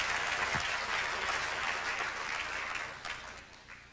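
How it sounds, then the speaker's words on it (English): A conference audience applauds in a hall, a dense, steady clapping that slowly thins and fades toward the end. "Give Brother Rich a warm round of applause."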